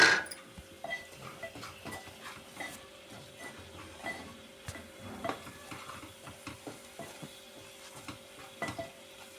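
A spoon stirs chili powder and salt into a frying masala in a pan for a fish gravy curry, with irregular metallic clinks and scrapes against the pan over a faint sizzle, close up and with no talking.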